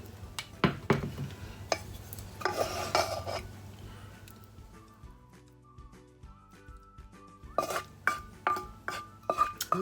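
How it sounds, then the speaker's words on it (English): Kitchen clatter as a chopping board and a plate are shifted across a counter during home cooking: scattered knocks, clinks and scrapes, busy at first, quieter in the middle, then a run of sharp close taps near the end. "Just actually move the chopping board and move my plate over."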